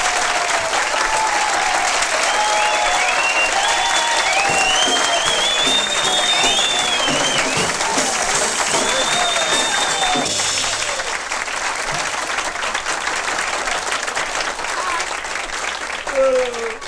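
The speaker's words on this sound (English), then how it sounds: "Let's have a nice round of applause for Mr. Don Sebastian" A comedy club audience applauds a stand-up comedian with loud, sustained clapping and some whistles and cheers over about seventeen seconds, fading slightly near the end.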